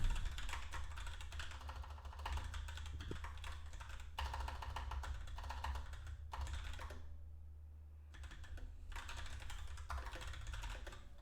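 Steady, fairly quiet computer keyboard typing during a coding session, with continuous clicks in uneven bursts and a brief lull near the middle before the keys pick up again.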